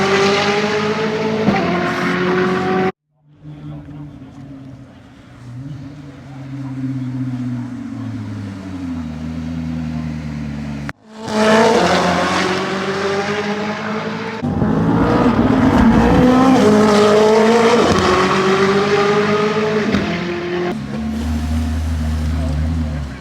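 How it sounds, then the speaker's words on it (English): A Koenigsegg Sadair's Spear race car laps Laguna Seca, its engine rising and falling through loud passes and gear changes, with a deep idle rumble in between and voices heard over parts of it. "Sadair Spear is going to do the lap record."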